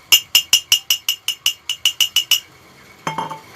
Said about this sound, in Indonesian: Bunyi botol sangat jelas.